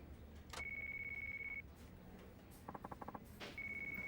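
A mobile phone in Yakuza 5 rings with two long steady electronic tones separated by a short burst of quick beeping, faint against a quiet game background.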